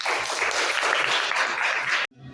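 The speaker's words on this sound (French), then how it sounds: "Applaudissez-vous." Audience members at a lecture on Lebou history clap loudly and densely for about two seconds, then the applause cuts off abruptly, leaving a brief quiet tail.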